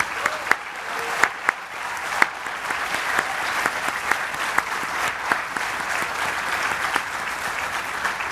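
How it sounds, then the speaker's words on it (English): An audience at a Formula Student business plan presentation final applauds the competing teams, a steady roomful of clapping with a few sharp individual claps standing out, carrying on evenly throughout. "give one big round of applause to all the teams who've competed today."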